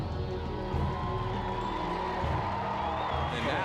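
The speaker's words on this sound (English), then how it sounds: "And now, listen to the crowd." Golf gallery crowd roaring at the final hole of the U.S. Women's Open, a sustained swell of cheering and whooping that builds and stays strong throughout, heard at a distance over broadcast ambience.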